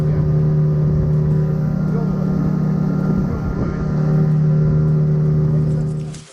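A motorboat engine drones loud and close while running on the Vym river, a steady low hum with layered harmonics that holds throughout, with a voice talking over it.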